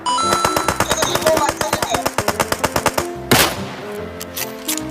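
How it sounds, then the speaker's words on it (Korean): Rapid bursts of automatic gunfire rattle in a fast, even rhythm, then a louder blast and a lingering rumble, with game-like sound effects, in the video game PUBG. "총소리 난다."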